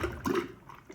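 Slow-draining sink gurgling and bubbling as water backs up past the P-trap, a short close burst of liquid glugs that fades quickly.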